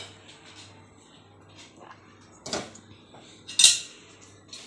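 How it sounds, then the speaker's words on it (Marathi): A metal kadhai is set down on a gas stove before frying onion bhaji, giving a couple of brief clanks against the grate over a quiet kitchen hum, with no talk. "आता आपण भजी तळण्यासाठी कढई गॅसवर ठेवून घेऊया."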